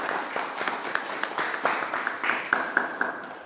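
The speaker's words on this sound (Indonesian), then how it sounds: "Tepuk tangan untuk kelompok 1." A class applauding a student group after its presentation, steady moderate clapping from many hands with distinct individual claps standing out, and some voices mixed in.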